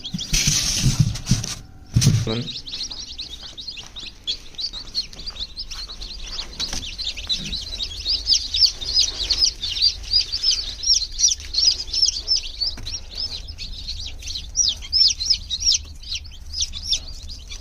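Newly hatched native chicken chicks chirp continuously in a dense, high peeping chorus close by, after a brief rustle and knock at the start.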